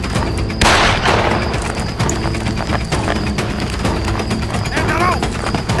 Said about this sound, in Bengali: ফায়ার করবো স্যার